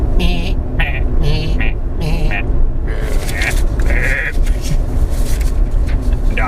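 Goats bleat repeatedly in short nasal cries over a constant loud background rumble, several calls overlapping at close range.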